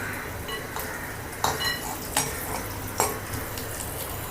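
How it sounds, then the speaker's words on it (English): Green chili and garlic sautéing in a pan for dal, a constant dense sizzle with a few stirring scrapes rising above it, close and steady, no voices. "the green chili and the garlic goes in. Saute this for a few seconds."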